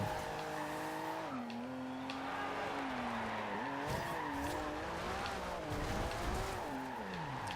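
A GT race car drifting in Forza Horizon 2, its engine droning steadily while tires squeal in long wavering bends of pitch that rise and fall as the car slides, loud and continuous throughout.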